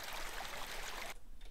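Steady broadband wash of flowing water in The Dark Mod stealth game, continuous and fairly close for most of the stretch, then dropping away abruptly to a quieter trickle near the end.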